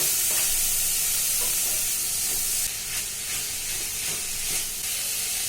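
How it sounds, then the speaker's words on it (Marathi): Chopped snake gourd stirred into masala in a hot pan, giving a steady loud sizzle and hiss with soft scraping stirs on top, close up and with no talk. "तर मिक्स करून घेऊया आपण मसाल्यामध्ये."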